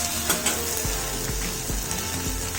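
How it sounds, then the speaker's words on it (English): Spine gourd and black-eyed pea vegetables frying in a pan give a constant loud, close sizzle, broken by a few light scraping taps and a low steady hum underneath. "Now I'll cook for another 2-3 minutes. Okay, these veggies are nicely fried."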